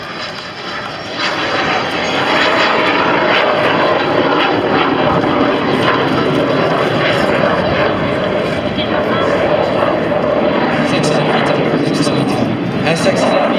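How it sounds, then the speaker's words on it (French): A twin-engine Alpha Jet accelerates during an aerobatic air show display, its loud, steady jet roar swelling and then holding at full volume throughout while a commentator talks over it. "Elle s'accélère vite, 2 réacteurs, l'avion est particulièrement léger"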